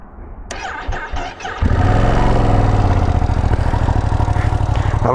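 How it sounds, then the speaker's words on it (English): A Ducati Panigale V2 motorcycle engine left switched on, catching and settling into a loud, steady idle after a brief rustle at the start, close by with gusty wind outdoors. "I left my bike on the on position"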